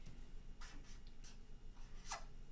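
Faint scratchy strokes of writing on a board, a handful of short marks under a steady background hiss, quiet and without voices.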